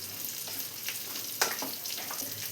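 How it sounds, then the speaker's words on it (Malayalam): Ash gourd being stirred in coconut milk for olan, a soft gentle bubbling sizzle with a few light spoon scrapes against the pan, close and quiet. "എല്ലാം കൂടെ ഒന്ന് മിക്സ് ചെയ്ത് കൊടുക്കാം"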